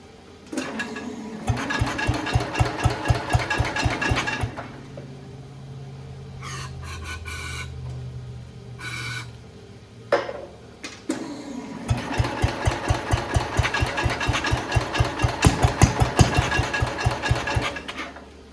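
An old Cub Cadet lawn tractor engine sputtering and turning over with a rapid knocking chug, dropping into a few seconds of uneven running and some clicks, then cranking up again into a steady rhythmic chugging.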